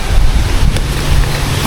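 Wind gusts across the microphone outdoors, a loud, close, rumbling buffet with a steady hiss and no voices.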